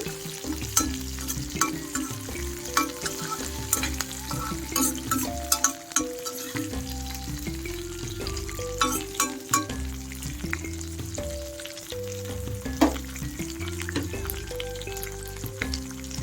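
Ingredients for neer chutney fry in a pan, giving a steady close sizzle with occasional stirring scrapes and light clinks against the pan, and no talking.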